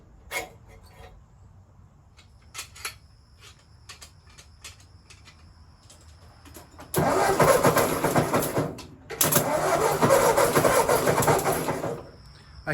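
An old Ford 8N tractor, left rotting in a field, is cranked with the choke pulled out: scattered clicks and knocks, then a loud starter grind catching into rough running, a brief break, and a second loud burst of engine noise that fades.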